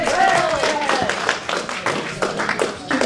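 Audience applause at a political rally in Bourges, a steady dense wash of clapping lasting the full few seconds with a voice speaking over it.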